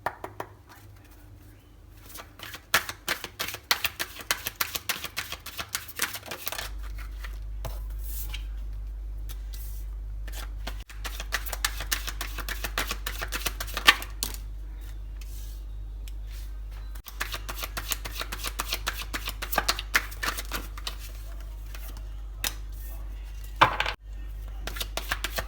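Tarot cards being shuffled in a pick-a-card reading, with repeated close riffling and slapping of the deck in bursts over a low steady hum, without talk.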